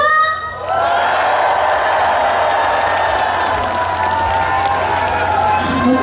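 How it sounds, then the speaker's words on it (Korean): A loud festival crowd at a melon festival song contest near Gayasan claps and cheers, a dense sustained roar of applause, shouts and whoops after a brief dip, with an amplified hum underneath. "한 번 더 우리 가야산이 흔들릴 만큼 큰 소리로 박수와 함성!"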